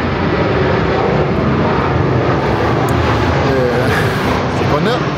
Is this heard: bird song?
no